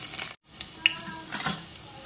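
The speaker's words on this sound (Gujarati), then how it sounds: "હવે આપણે એમાં લસણ નાખી દઈશું." Garlic dropped into hot oil for tempering, a bright crackling sizzle with a brief gap and light stirring clinks, close and alone without talk.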